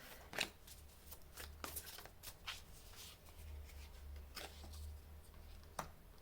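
A tarot card is drawn and laid over another card during a love reading, giving a few soft, close flicks and slides of card stock over a low, steady hum.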